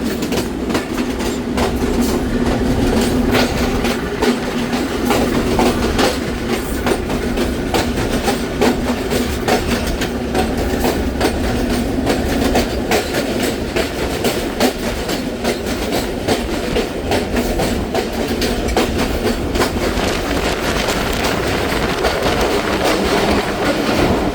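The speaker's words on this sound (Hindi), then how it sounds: "दोस्तों एल्को की आपको थोड़ी सी घन गरज भी सुनाते हैं" An ALCO diesel locomotive hauling the Thal Express drones loudly and continuously with rhythmic wheel clatter on the rails, a dense steady roar lasting throughout.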